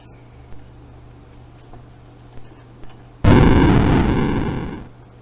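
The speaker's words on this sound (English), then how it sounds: "we've got an explosion happening when we either shoot something or we get destroyed by crashing into something" A video game explosion built in Scorpion Editor bursts suddenly after quiet ticks, a loud noisy blast that fades out over about two seconds, with no one talking.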